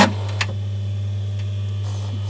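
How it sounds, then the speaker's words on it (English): A sewing machine motor runs with a steady low electric hum, with a couple of faint ticks and clicks over the drone. "So that's the motor spinning."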